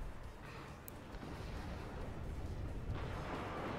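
A Chieftain tank cannon fires in a tank combat video game, heard as a low, rumbling roar that swells and hangs, with a second surge of noise near the end and no talk.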